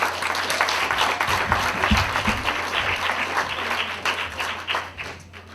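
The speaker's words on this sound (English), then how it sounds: "Can we get a round of applause for that?" Round of applause at a graduation celebration, a dense, sustained burst of many hands clapping from a moderately sized indoor crowd, steady throughout and tapering slightly near the end.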